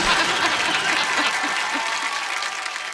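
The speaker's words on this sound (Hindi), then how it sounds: "जोरदार से ताली से आप उनका स्वागत करेंगे" Studio audience at The Kapil Sharma Show gives loud, dense applause welcoming the chief guest, continuous clapping that eases slightly toward the end, no speech over it.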